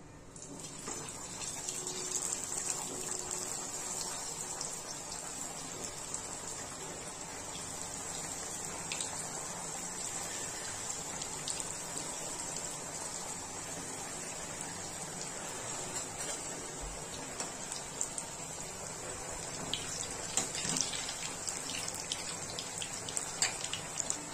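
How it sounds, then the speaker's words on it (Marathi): Battis fry in hot oil, giving a soft, continuous sizzle and fine crackle that stays fairly quiet and steady throughout, with occasional slightly sharper pops. "आता आपलं तेल व्यवस्थित गरम झालेलं आहे। आपण आपल्या बट्ट्या आता तळून घेणार आहोत।"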